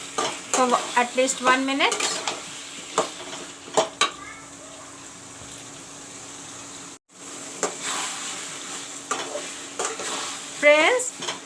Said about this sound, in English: Now I will mix the potatoes with the masala